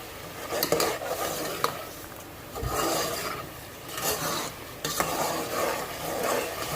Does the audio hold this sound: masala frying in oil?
yes